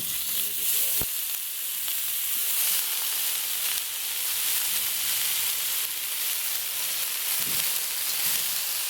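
Lehheti greens dropped into a hot pan with turmeric, a loud continuous hissing sizzle with a couple of utensil knocks.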